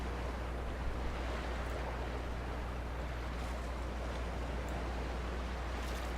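Steady water noise in Dear Esther, a constant broad wash like surf or lapping sea that stays even and unbroken with no voices.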